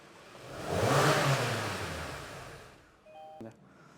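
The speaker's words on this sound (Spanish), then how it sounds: "Y una aceleración brusca y vamos a apagar el motor con el acelerador a fondo." A spark-ignition car engine revs up sharply, swelling to a loud roar and then fading away as it shuts off with the throttle held wide open. A brief electronic beep and a click follow at the end.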